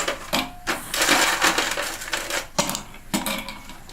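Several hard ice cubes clatter and crack into a cup in quick bursts, loud and close, with short pauses between drops.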